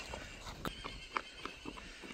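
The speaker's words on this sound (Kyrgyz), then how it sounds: "Таза кыргыз жылкы экен" A two-year-old purebred Kyrgyz horse for sale gives a faint, short neigh amid soft hoof clops and light shuffling, quiet and somewhat distant, no talking.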